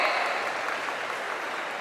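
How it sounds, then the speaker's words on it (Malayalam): An audience at a film audio launch gives Moksha a dense, steady round of applause that fills the whole moment at an even loudness. "ഒരു വലിയ കൈയടി കൊടുക്കാൻ നമുക്ക് മോക്ഷയ്ക്ക്"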